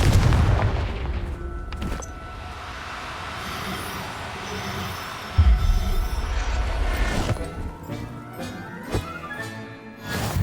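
A Confringo fire spell explosion in the video game Hogwarts Legacy, heard as a loud booming blast with rumbling bursts and a sharp impact midway, over a sustained game soundscape with no speech.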